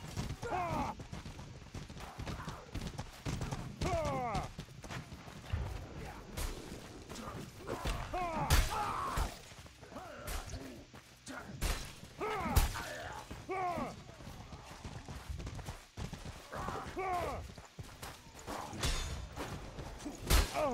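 Horse hooves clip-clop in the medieval combat game Mordhau amid swishing weapons, thuds and chaotic battle noise. The sounds come in irregular bursts, with a player briefly speaking over them.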